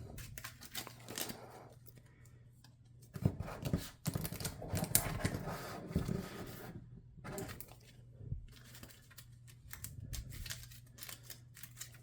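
Cards being shuffled in quick crackling riffles, with a louder burst in the middle, over a steady low electrical hum.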